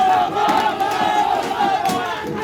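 BJP workers shouting slogans outside a vote-counting centre, a dense crowd roar with rhythmic chanting voices layered throughout, loud and continuous.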